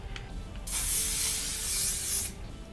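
Hairspray hisses out of a can onto hair in one loud, sustained burst of about a second and a half, close by, with a quieter rustle of handling before and after.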